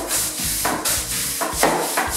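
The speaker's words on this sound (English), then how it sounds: "and brush it in again." A brush scrubs a shower floor coated in a damp cleaning paste, giving loud rhythmic back-and-forth strokes in a steady repeating pattern.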